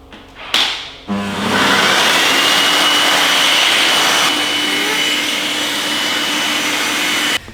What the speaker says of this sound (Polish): Teoretycznie producent nazwał to dmuchaną do liści. Dla nas to jest suszarka do auta.